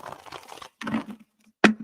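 A deck of tarot cards is shuffled close up in short papery bursts of riffling and flicking, separated by brief pauses and ending in a sharp snap.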